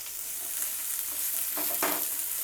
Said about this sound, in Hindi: प्याज को हमें ज़्यादा कुक नहीं करना है, हम इसे सिर्फ इसका कच्चापन निकालेंगे